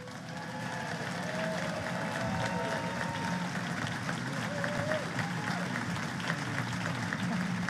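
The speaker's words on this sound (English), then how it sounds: "Big round of applause." Seminar audience giving a big round of applause, continuous crowd clapping at moderate level throughout, with some voices mixed underneath.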